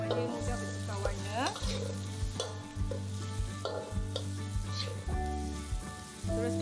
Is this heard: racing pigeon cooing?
no